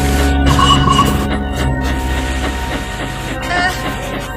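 A train rumbles and clatters along at close range, loud and continuous, with faint squeals and a hiss of steam over the steady rolling noise.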